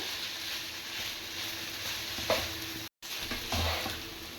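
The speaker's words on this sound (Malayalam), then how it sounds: "ഈ വെജിറ്റബിളും നൂഡിലൊക്കെ ഒന്നായിട്ട് മിക്സ് ചെയ്യാം" Vegetables and noodles being stir-fried in a pan give a close, steady sizzle with repeated stirring scrapes and a few louder clatters, with no voices and a brief dropout partway through.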